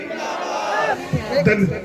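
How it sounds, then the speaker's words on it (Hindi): A crowd at a BJP election rally in Patel Nagar shouts a party slogan together, a loud, massed roar of voices rising in bursts toward the end, close and full over the sound of the gathering. "तो एक बार जोर से नारा लगाएंगे, भारतीय जनता पार्टी"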